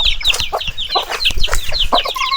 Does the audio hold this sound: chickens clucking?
yes